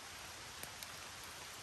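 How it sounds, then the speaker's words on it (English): Steady rain falling outdoors in a forest camp near a fire shelter, an even broadband hiss with a couple of brief sharper drop ticks. "It continues to rain"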